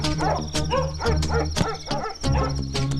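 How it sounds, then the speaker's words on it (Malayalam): A dog barks repeatedly in steady, evenly spaced bursts at night near a house, fairly close and loud, with a continuous low hum running underneath and no talk. "അവിടെ എന്താ പട്ടി കുറയ്ക്കണേ?"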